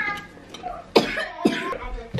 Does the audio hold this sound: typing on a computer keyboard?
no